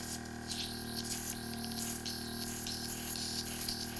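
Airbrush spraying out cleaning water in cake decorating work, a hissing spray in short bursts over a steady low hum, faint and close.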